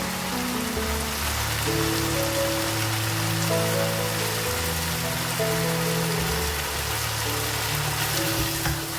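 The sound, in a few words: sizzling as yogurt is added to frying beef karahi masala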